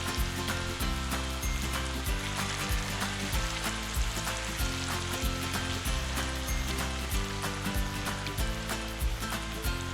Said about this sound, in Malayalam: ഞാനിവിടെ നല്ലെണ്ണയിലാണ് മീൻ ഫ്രൈ ചെയ്തെടുക്കുന്നത്.